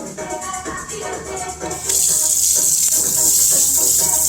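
Tap water runs to rinse out a plastic food prep container, starting with a softer splashing and then becoming a loud, steady gushing stream into the sink for the remaining seconds.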